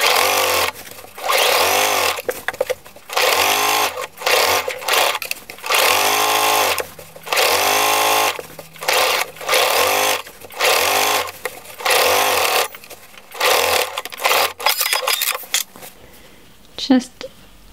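Up close, a sewing machine runs a straight seam on a sweatshirt, fixing down the seam allowance in a steady series of loud whirring bursts with brief pauses between them.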